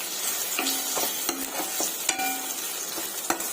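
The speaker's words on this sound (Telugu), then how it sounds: "టమోటా కూడా బాగా ఫ్రై చేసుకుందాము." Chopped tomato fries in a pan with ginger paste under a soft sizzle, broken by several sharp spatula scrapes and taps at uneven intervals, with no talking.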